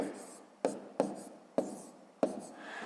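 Pen strokes on paper as multiplication figures are written out in a column for a sixth-grade maths exercise, four sharp taps or stroke onsets each trailing into soft scratching, close and quiet with no talk.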